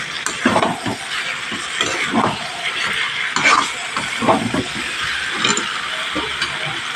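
Onion and capsicum stir-fried in a chicken curry pan, with a continuous sizzle and hiss broken by repeated scraping strokes of a spatula, close and fairly loud, with no talking.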